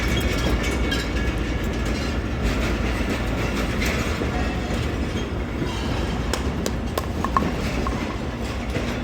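Train rail car rolling past at Rawalpindi railway station, a continuous loud rumble of wheels on track with faint clatter and a brief squeal near the end, close by and without talk.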